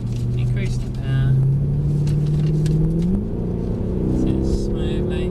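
A Mercedes car on a driving track pulls through a corner and accelerates, its engine hum climbing in pitch, as an instructor talks over the steady motor drone.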